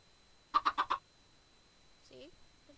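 Minecraft chicken clucks in a short burst of four quick, evenly spaced bwak-like calls, loud and close, followed by a faint, brief fainter sound.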